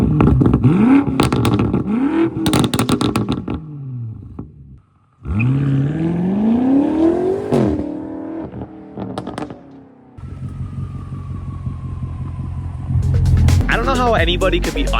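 A loud BMW M5 Competition with straight-piped exhaust revs hard in repeated rising and falling bursts, with sharp crackling pops, then settles into a rumbling idle while people talk.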